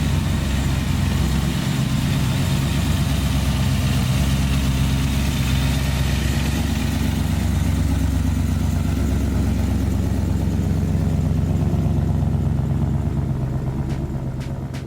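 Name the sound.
big block muscle car engine idling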